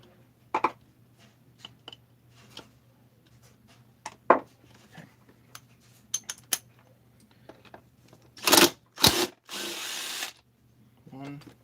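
Screws being put back into a split 262xp chainsaw case, heard as scattered sharp metallic taps and clinks over a steady low hum, with a couple of louder rasping bursts near the end.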